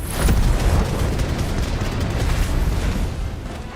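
A mortar explosion in Final Fantasy XVI, a loud, broad rumbling blast that sustains as a dense roar through the whole stretch without a clear decay.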